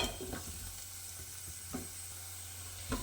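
Garlic fries in a pan with onions for a leftover chickpea curry dish, making a quiet, steady close sizzle under a constant low hum, with a few faint stirring scrapes and no speech.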